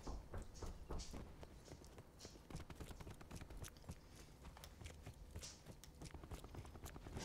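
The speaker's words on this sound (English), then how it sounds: "Heard someone behind me jumping around." Rapid footsteps from someone jumping around in the Black Ops 4 video game, a busy run of quick thuds and scuffs at moderate level without a break, with faint background game noise.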